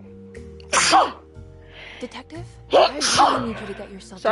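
A character sneezes in the video game Alone in the Dark, a single sharp burst followed by a second one a couple of seconds later, with a voice speaking between them.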